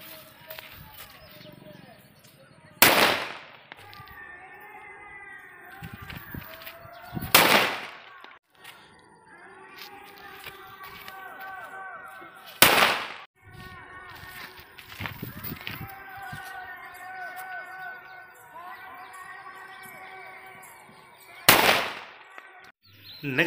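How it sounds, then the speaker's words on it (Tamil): Single Valangaiman firecrackers (otha vedi), sold in bundles, burst one at a time with sharp loud bangs a few seconds apart, while someone talks and birds coo in the background. "வலங்கைமானோட ஸ்பெஷல் வந்து பார்த்திங்கன்னா அந்த ஒத்த வெடி."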